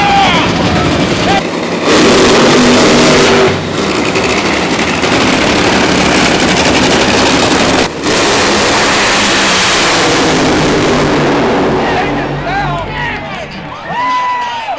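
Drag racing cars launch and rev hard at the NHRA Midwest Nationals at World Wide Technology Raceway, a loud, sustained roar with brief cuts and a crowd cheering underneath, fading toward the end.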